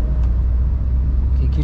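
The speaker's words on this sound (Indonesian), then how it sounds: "Oke, nah, tancap gas." Low, steady engine rumble comes from inside a Honda Brio car pulling away, heard briefly and closely with the drone holding level.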